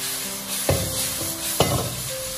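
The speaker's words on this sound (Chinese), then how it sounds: "快速的翻炒均匀，让所有的食材吸收料汁的香味" Onion and pork stir-fry quickly in a wok with sauce, a steady sizzle broken by two distinct scrapes and tosses of the spatula.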